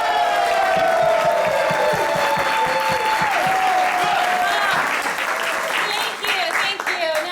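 An audience at a live improvised game show breaks into loud, sustained applause with cheering and whoops. The clapping stays dense throughout and fades slightly near the end.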